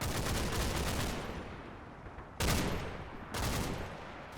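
Sporadic gunfire in a WWII Normandy battle game: a rolling, sustained volley followed by two more sudden bursts, each fading into a dense rumbling tail, with no speech.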